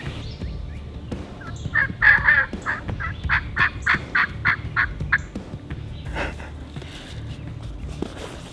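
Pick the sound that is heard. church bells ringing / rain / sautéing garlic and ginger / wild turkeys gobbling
wild turkeys gobbling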